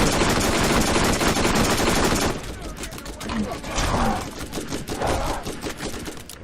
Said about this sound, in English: They're shooting me that inside.